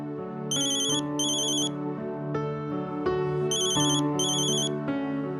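A phone ringtone plays a repeating electronic melody, with bright chiming bursts in pairs over a steady tone, loud and close, no voices.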